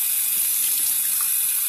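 Cold water runs from a tap into a sink during a skincare routine, a loud, continuous hissing splash that stays steady throughout with no voices.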